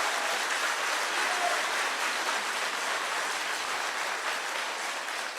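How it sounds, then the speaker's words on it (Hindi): A crowd applauds to welcome Rahul Gandhi at a live event in Srinagar, with steady, even clapping from many hands that sounds somewhat distant and keeps up for several seconds with no pause. "जोरदार तालियों से इनका स्वागत है।"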